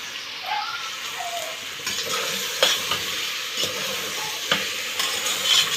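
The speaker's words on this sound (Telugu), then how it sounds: "వేగిపోయిందండి అల్లం వెల్లుల్లి పేస్ట్ ఇది వేసేసుకుంటున్నాను" Ginger garlic paste sizzling and frying in a pan for mutton biryani, a steady close hiss broken by the scrape and clink of stirring at irregular intervals.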